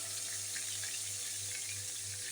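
Fish pieces frying in hot oil for a spicy bhola fish curry, a steady broadband sizzle with a low hum beneath, continuous and close for the whole stretch.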